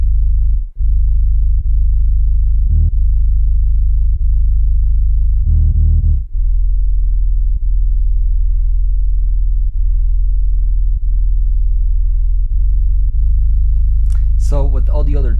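Tuned 808 bass in an FL Studio beat, deep sustained booming notes that change pitch every couple of seconds, loud and steady with brief gaps, a short higher blip near the end.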